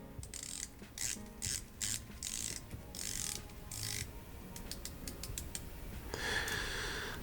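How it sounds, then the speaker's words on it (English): Ratcheting clicks as the rotating dive bezels of a Seiko SBDC061 and a Tissot Seastar 1000 are turned, arriving in close, crisp bursts of rapid detents with short pauses between them. "I'm going to do bezel action"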